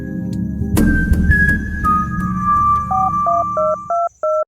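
A mobile phone is dialed, a quick run of short electronic key tones, about eight evenly spaced beeps at close range, following a burst of rustling and one sustained tone.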